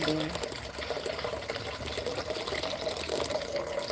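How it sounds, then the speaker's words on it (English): Hot water poured from a kettle into a foot bath, a steady continuous splashing and trickling stream close by, with faint background sounds underneath. "I'm actually going to pour some more water in now"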